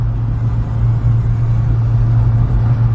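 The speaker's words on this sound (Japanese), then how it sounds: "アクセルをこう踏んでいると徐々にですね、まあ、ギアが変わっていってっていうか、 回転が良くなってですね" A Subaru Sambar Dias TV1 van with automatic transmission climbs a hill with AT power on, its engine giving a steady, loud low drone from inside the cabin for a few seconds.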